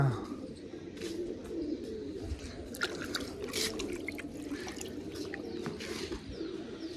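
A flock of pigeons, some 45 to 50, coos in a sunny outdoor spot where grain is scattered, a steady soft murmur of calls with scattered flutters under nearby voices.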